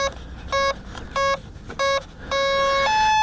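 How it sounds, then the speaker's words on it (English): Startup tones from an FMS Zero RC plane after its 4-cell battery is plugged in: four short electronic beeps in a rhythmic sequence, then a longer rising two-part tone, close and clear with no talk. "We'll hear some little beeps and blurps and stuff."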